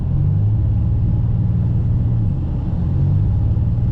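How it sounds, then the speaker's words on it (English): A car engine on a winter drive sputters as the gas is pressed, a close, loud, steady low rumble with faint uneven pulsing and no speech. "I'm putting my foot on the gas and it's just sputtering out."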